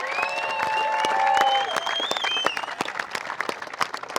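A crowd at an outdoor charity golf event applauds in a sustained, loud burst that thins into scattered individual claps toward the end, with a whistle or cheer over the top.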